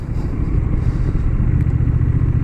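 Honda Rebel 1100 motorcycle riding in rain mode, its engine giving a steady, loud low rumble throughout while cruising on the road.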